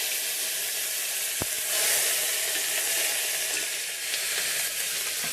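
Fenugreek seeds, dried red chillies and curry leaves frying in hot oil give a steady, dense sizzle with a short sharp pop partway through, close and loud, with no voices.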